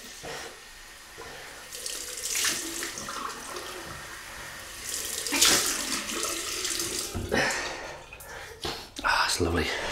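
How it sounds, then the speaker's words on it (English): A bathroom tap runs for a cold water rinse after a shave, water splashing and gushing unevenly at close range, with bursts of louder splashing as hands move under the stream. "Cold water rinse."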